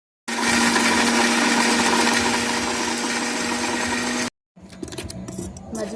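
An electric mixer grinder whirs loudly and steadily for about four seconds as it grinds dry red chillies with salt for gongura chutney, then stops abruptly, followed by softer rattling and handling noise.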